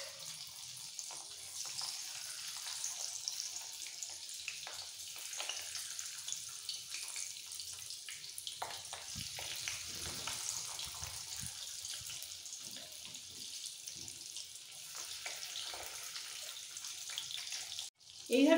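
Morola fish pakora dipped in egg batter frying in hot oil, a steady low hiss and crackle running throughout with a louder knock at the very end.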